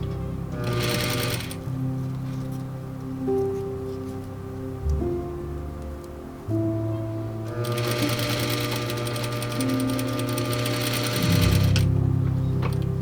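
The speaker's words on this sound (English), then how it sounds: "I'll make sure not to sew through that boning." A sewing machine stitches a wedding dress in steady running bursts, its motor hum and rapid needle clatter close and continuous, pausing briefly before resuming at a busier pace.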